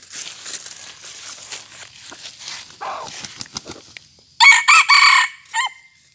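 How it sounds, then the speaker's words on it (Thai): A Thai fighting rooster crows loudly and close in a few sharp bursts near the end, after quieter clucking and rustling earlier on. "ตัวนี้ถ้ามันขันก็ขันทีนะครับ"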